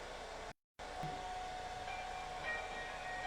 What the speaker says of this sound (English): I'm blow drying on low